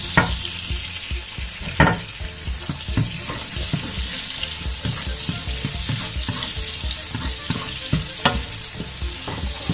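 Onions sautéing in a pan for pancit canton, with a loud, continuous sizzle close by and frequent clinks and scrapes of a spatula stirring.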